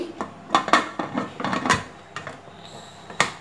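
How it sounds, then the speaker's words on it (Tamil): Pressure cooker lid being set and closed over boiling water and basmati rice in a home kitchen, a series of close metallic clanks and scraping rubs with a final sharp clack. "குக்கரை மூடி"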